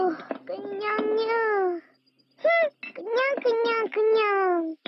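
A cat meows several times in a row, with drawn-out, rising and falling cries and brief pauses between them, close and fairly loud, with a voice faintly mixed in.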